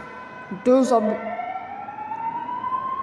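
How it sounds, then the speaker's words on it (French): A distant ambulance siren wails with a slowly rising tone after a brief burst of nearby voice, fairly faint and steady as it passes. "Il y a des ambulances qui viennent de passer."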